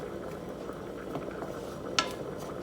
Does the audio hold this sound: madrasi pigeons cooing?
no